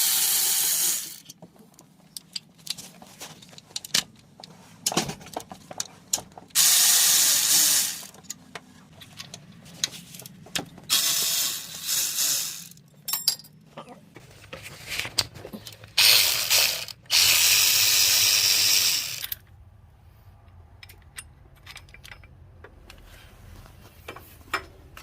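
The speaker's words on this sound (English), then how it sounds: "Remove power steering pump bracket bolts." Ratchet wrench clicking in repeated bursts while power steering pump bracket bolts come out of a Toyota 3.4L engine, broken by a few loud broadband hissing spells, with no talk.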